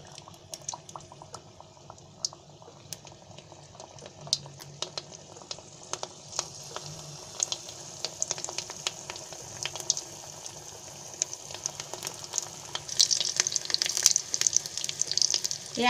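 Anarse, a sweet Diwali dough, frying in hot oil, giving a steady bubbling sizzle with scattered crackles and pops that grows busier and louder toward the end, heard close with no one speaking.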